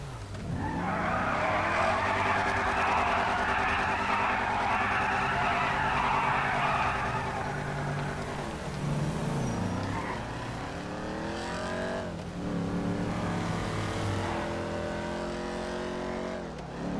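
A stolen car in GTA skids with a long, loud tire squeal over a revving engine, then drives off with further shorter skids and engine surges close by.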